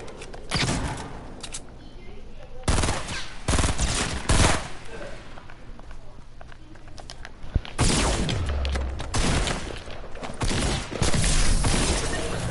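Rapid bursts of automatic gunfire and scattered shots from a shooter video game, loud and repeated in several volleys across the stretch, with game noise filling the gaps.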